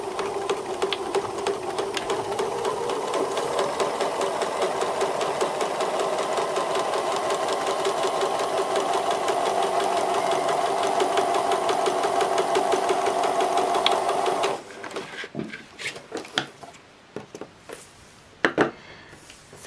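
A sewing machine stitches a quarter-inch seam in fabric, running a steady rapid mechanical chatter for about fifteen seconds before stopping, followed by a few faint clicks and handling noises.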